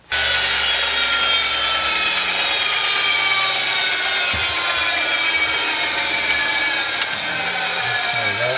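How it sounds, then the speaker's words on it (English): A bandsaw cutting wood, a loud continuous broadband whine that holds steady almost the whole time, with small shifts in tone as the blade works through the piece. "I might take this to my bandsaw and take a little of that off there."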